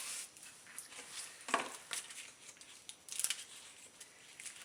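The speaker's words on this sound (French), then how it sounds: "Des fois, je trouve que ça va mieux avec des ciseaux quand il y en a peu à enlever." Scissors snip away small bits of excess cured silicone while a silicone lace mat is being made, producing a few brief, crisp close cuts at irregular intervals over a quiet background.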